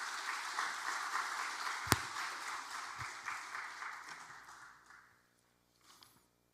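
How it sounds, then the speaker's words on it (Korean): A church congregation applauds at a Sunday worship service to welcome a speaker, a broad sustained clapping that fades out over about five seconds, followed by near silence. "박수로 환영해 주시기 바랍니다."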